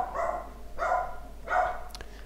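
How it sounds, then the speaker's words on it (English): A dog barks three times in the background of an indoor room, evenly spaced and moderately loud, with a brief click at the end. "Sorry about the dog barking in the background."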